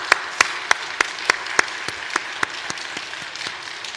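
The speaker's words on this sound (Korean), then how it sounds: "우리 선생님들 박수 또 한 번만 쳐주십시다." A church congregation claps for its Sunday school teachers, a steady run of sharp, evenly spaced claps that loosen and fade toward the end, with no voices over them.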